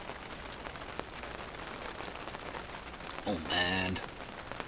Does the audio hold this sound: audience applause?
no